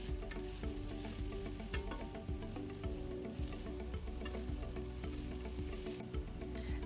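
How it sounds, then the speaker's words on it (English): Meat and vegetables roasting together in a pan for a meaty bean stew, giving a dense, continuous sizzle and crackle with occasional stirring scrapes, close and fairly loud throughout. "And now put the meat back and mix everything nicely together and then roast it"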